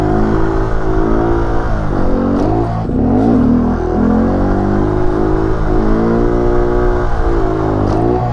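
A motorcycle engine revs steadily and loudly up close during foot-brake stunt practice in a parking lot, the throttle rising and falling smoothly with no break over several seconds.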